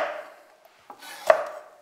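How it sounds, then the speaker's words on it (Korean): A knife cuts chili peppers on a cutting board with a few sparse, soft chopping knocks spread across a short, quiet stretch. "고추는 어슷 썰어주세요."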